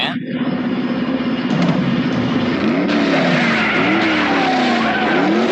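A car in a movie scene races toward a man to run him over, engine revving hard with repeated rising and falling tire squeals and skids, loud and close with dramatic sound effects throughout.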